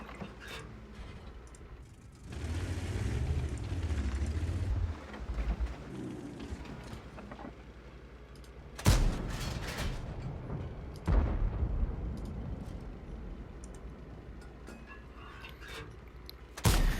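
An M46 Patton tank's main gun fires in a video game, one sharp loud blast followed by a second shot a few seconds later, each ringing over low engine rumble and battlefield noise.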